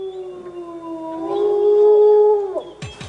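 Wolves howl at night in winter, long sliding tonal howls with overlapping voices that rise and hold, then drop away, followed by a brief noisy burst at the end.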